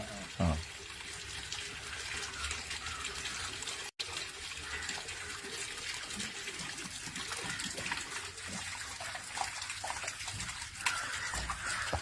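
Steady rushing water from a Jalamithra water filter tap runs throughout, a continuous broadband gush, with faint talk and a brief knock near the start.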